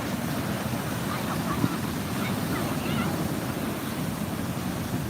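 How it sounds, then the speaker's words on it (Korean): Strong sea waves still churned up after a typhoon roar in a continuous broadband wash, loud and close, with wind buffeting the microphone and no clear talk. "지금 태풍 때문에 아직도 파도가 셉니다"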